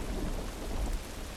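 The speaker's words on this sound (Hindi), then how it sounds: "क्या आवाज़ आ रही है बादल गरजने की यार." Thunder in a video game rolls as a steady low rumble over constant rain, fairly quiet and continuous with no voices.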